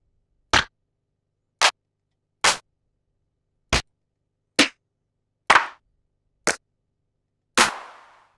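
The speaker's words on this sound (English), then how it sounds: "Then you've got the claps." Eight isolated clap samples from the Killa Kits Battery 3 drum kit play one at a time with silent gaps between them. Each is short and crisp, and the last has a longer, roomier tail.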